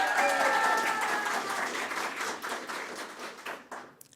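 A graduation ceremony audience applauds a BCom graduate who earned a cum laude qualification; dense clapping starts loud and close, then thins and fades over a few seconds, with a few scattered claps near the end.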